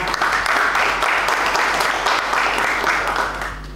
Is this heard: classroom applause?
yes